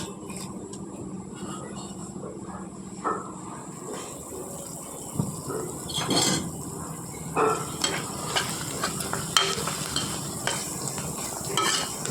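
Chopped onions fry toward golden brown in a pan for a restaurant-style chicken curry, a steady soft sizzle broken by repeated clicks and scrapes of stirring.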